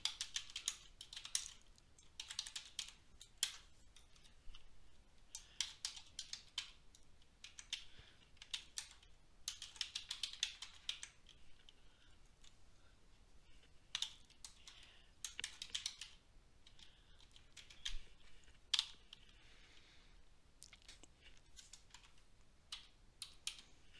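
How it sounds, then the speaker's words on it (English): Someone types steadily on a computer keyboard while entering data into a spreadsheet, a quiet, close run of rapid key clicks with irregular bursts and short pauses throughout. "You just click on a cell and start typing."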